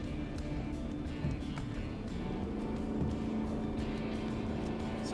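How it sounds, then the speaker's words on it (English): A truck engine holds full engine braking on a downhill run in manual mode at around 2200 to 2300 RPM, giving a steady, unbroken low drone throughout with no talking. "So now we got full engine braking, and I'm getting all of the stopping power that the truck has to offer."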